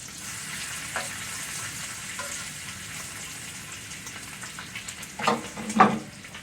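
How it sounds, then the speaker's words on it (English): Bacon renders its fat in a pan, a low steady crackle and sizzle, then a couple of louder clattering, splashy bursts near the end, no speech. "I've got some bacon going over here, rendering some bacon out"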